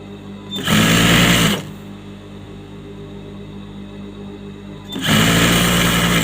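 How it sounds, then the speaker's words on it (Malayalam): Sewing machine stitching lining onto a cotton churidar top neck, two loud close bursts of rapid whirring stitching separated by a pause with a low hum, no talking. "സ്ട്രൈറ്റ് ആയിട്ട് തന്നെ സ്റ്റിച്ച് ചെയ്ത് കൊടുക്കുക."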